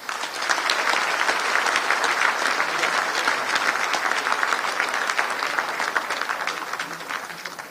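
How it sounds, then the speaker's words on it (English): A large audience at a Bangladesh investment summit opening claps for honoured guests, a dense, sustained ovation of many hands, steady and fairly distant, fading slightly at the close. "Let's give another big applause to them."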